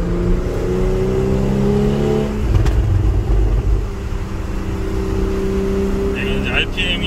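A Porsche 718 GT4 engine, able to rev to 8,000–9,000 rpm, drones steadily and loudly from inside the moving car. Its pitch shifts as it revs, with a brief bump midway and a muffled voice faintly present.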